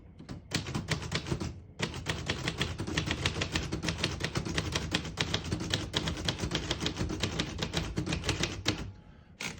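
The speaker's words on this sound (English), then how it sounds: "I'll type a sentence on the next line." A 1948 Royal Quiet De Luxe portable typewriter is typed on at a quick, even pace, its crisp close keystrikes clattering in a continuous run with a brief pause near the start and a faint bell or carriage sound at the end.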